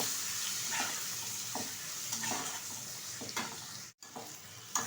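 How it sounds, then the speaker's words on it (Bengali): Chopped onion and tomato fry in a pan with turmeric, a steady soft sizzle under periodic spatula scrapes and stirs, fairly quiet and close, with a brief dropout near the end and no talking. "কুচিয়ে রাখা পেঁয়াজ আর একটা টমেটো ভালোভাবে ভেজে নেব"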